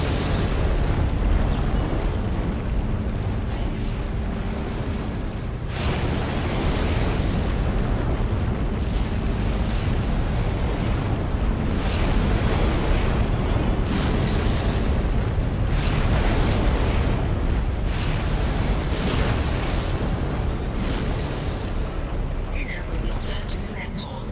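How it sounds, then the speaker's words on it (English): A flamethrower fires repeatedly in the sci-fi horror game Dead Space, a loud sustained roaring whoosh broken into long bursts, with a voice talking over it at times. "Shooting fire now."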